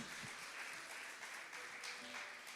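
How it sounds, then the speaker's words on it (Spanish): A church congregation applauds in praise, a continuous wash of many hands clapping at a distance, soft and even throughout. "Dale un aplauso a Dios"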